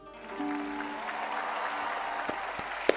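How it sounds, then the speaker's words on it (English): Audience applause for a magic performance on a television stage, swelling in after a brief tone and holding as a steady, full clapping from a large crowd. "拍手をします。"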